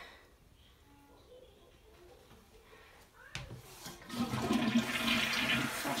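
A household toilet flushes in a bathroom after a few seconds of quiet, starting with a sudden rush of water that grows louder and keeps swirling steadily, close and clear.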